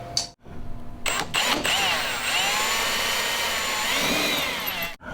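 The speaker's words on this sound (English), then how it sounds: "This is using a 1/8 drill bit" A power drill with a 1/8-inch bit whirs up and runs steadily at close range, drilling rivet holes in a car hood, pitch wavering slightly as the bit cuts, then stops abruptly.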